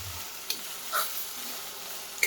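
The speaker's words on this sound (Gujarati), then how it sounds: "પહેલાં આપણે ચણાને અને ડુંગળીને સારી રીતે તેલમાં કૂક થવા દઈશું." Chickpeas and onion frying in oil for vegetable fried rice, a soft steady sizzle with a couple of brief stirring scrapes, fairly quiet and close, no talking.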